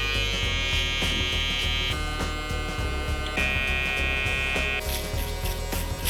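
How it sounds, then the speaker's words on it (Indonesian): Electric shaver buzzing steadily while smoothing a mullet fade on curly hair, a loud close continuous whine that shifts pitch as the blade presses against the head. "Nah, untuk yang terakhir gue menggunakan shaver. Tujuannya untuk membuat fade-nya lebih halus."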